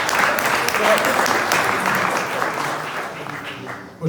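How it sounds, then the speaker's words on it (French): An audience claps for a speaker at a business federation New Year's greetings event, a broad wash of applause that gradually thins and fades toward the end. "Oui, on peut l'applaudir, après tout, pourquoi pas."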